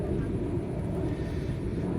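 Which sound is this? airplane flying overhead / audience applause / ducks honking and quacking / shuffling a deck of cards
airplane flying overhead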